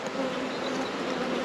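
Steady, dense buzzing of many honey bees from an open hive with mixed frames of brood, heard close up as a continuous hum with no talking.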